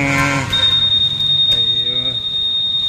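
A steady high electronic car alarm beep tone sounds, with a person talking over it at the start and faint clicks in the background.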